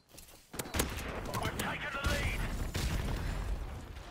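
A G36C rifle fires in sustained automatic bursts in the video game Modern Warfare Remastered, a continuous rattling barrage at moderate level after a brief quiet start.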